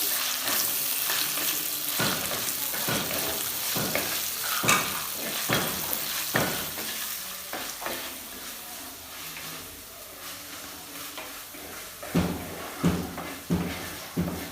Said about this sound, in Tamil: நான் இஞ்சி பூண்டு பேஸ்ட் அப்படியே போட்டுடுறேன். போட்டு கலக்கிக்கலாம்.